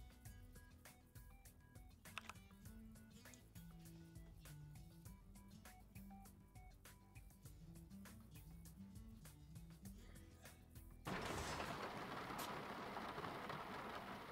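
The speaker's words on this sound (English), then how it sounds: "And now it's raining." Soft background music plays in a truck-driving video game, then steady hissing rain suddenly starts and continues loudly over it.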